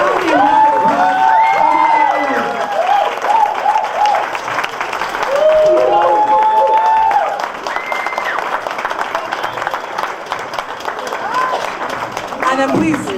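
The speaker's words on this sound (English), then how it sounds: "Ladies and gentlemen, please give a resounding round of applause" A concert audience at the 2014 Woman Rising event bursts into sustained, loud applause, with whoops and ululating voices riding over the dense clapping throughout.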